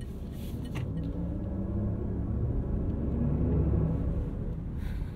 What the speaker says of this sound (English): Rolls-Royce sound is now on, and we're going to hear it for the first time together.